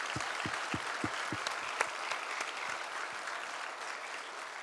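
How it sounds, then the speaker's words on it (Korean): A church congregation at an ordination service applauds the newly appointed honorary deaconesses, a steady, fairly distant wash of clapping opening with a few crisp, rhythmic claps. "큰 박수로 축복해 주시기 바랍니다."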